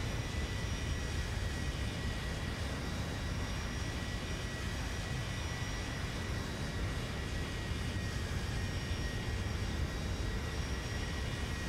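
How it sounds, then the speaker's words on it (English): An AI-controlled airliner passes close at the same altitude in an online San Francisco to Orange County flight-simulator session, a steady broadband engine roar filling the whole stretch at constant loudness with no talk over it. "Oof, what's that? Oh shoot. Got an AI aircraft."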